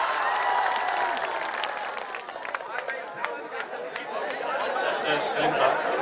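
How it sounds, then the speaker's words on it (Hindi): Applause and cheering from the audience at a ghazal mushaira poetry gathering, clapping mixed with chatter and laughter under a speaking voice, rising again toward the end. "तालियां।"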